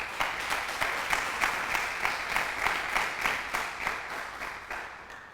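Congregation in a church breaking into steady applause, many hands clapping in a dense, even wash that holds for about five seconds with slight rhythmic pulses, no voices over it.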